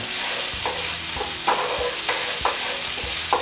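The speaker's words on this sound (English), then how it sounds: "So initially it's just a case of keeping the onion moving around the pan," Steady loud sizzling of onion frying with rhythmic scraping and clacking as it's stirred around a pan, several strokes about half a second apart.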